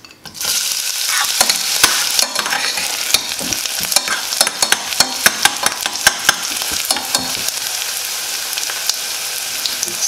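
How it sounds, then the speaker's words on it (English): Onions dropped into hot oil, loud close sizzling and crackling that starts abruptly and continues steadily, with stirring scrapes and pops throughout. "I'll let the oil be hot so that I can add my onions."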